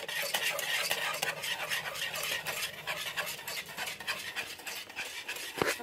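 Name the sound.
whisking gram flour batter for Mysore pak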